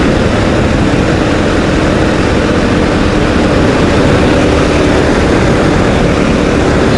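A KTM 500 EXC-F dirt bike ridden on a road produces a loud, steady engine roar with broadband rumble that stays constant throughout and has no pauses or voices.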